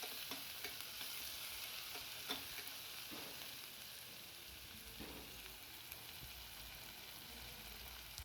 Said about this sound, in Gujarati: હવે આપણે એમાં સમારેલી ડુંગળી ઉમેરી દઈએ અને એને આપણે પ્રોપર સાતળી લેવાની છે.